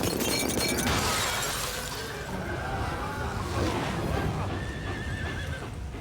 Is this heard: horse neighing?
yes